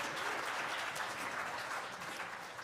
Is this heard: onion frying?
no